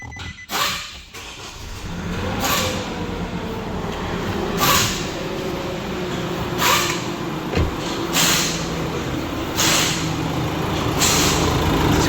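A Nissan Navara engine, being checked for an EGR coolant pump circuit fault, starts and settles into a steady idle with a few sharp hissy bursts repeating over the running hum.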